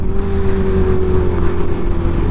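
Motorbike engines revving steadily on a busy highway ride toward Panvel near Mumbai, a loud continuous drone with a sustained low hum and slight pitch rise, close and uninterrupted throughout.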